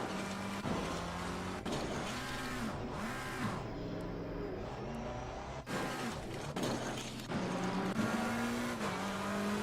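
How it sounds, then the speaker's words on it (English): Race car engine roaring at full throttle in Assetto Corsa Competizione at the Hungaroring, loud and steady, its pitch climbing and dropping through gear changes with brief lifts, close and continuous with no talk. "I'm in first, I'm in second, my foot's to the floor."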